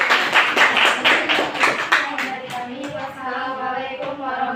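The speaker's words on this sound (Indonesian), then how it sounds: "kelompok 1 kita beri aplaus kelompok 1" A classroom applauds group 1, many hands clapping in a brisk, steady burst close by, then tapering off.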